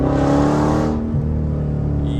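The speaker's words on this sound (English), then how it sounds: "Wait till you hear that downshift though." Dodge Charger Hellcat with a mid-muffler delete, a loud, close engine roar that drops sharply as the gears downshift, leaving a lower rumble with a faint high supercharger whine above it.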